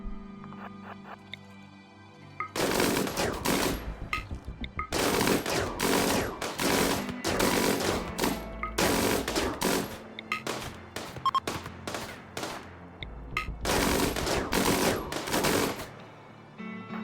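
RimWorld colonists fire at bugs in long bursts of rapid automatic gunfire, several sustained volleys separated by short pauses, loud and close.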